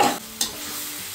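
Dal being tempered for a festive home meal, with a sharp hiss of sizzling oil at the start and a second burst of sizzle midway as the spoon stirs the pan, fading into a steady low frying crackle.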